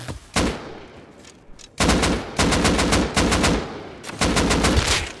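Rapid bursts of video game gunfire from an AK-style rifle, loud and close, with several separate volleys of quick shots broken by short pauses.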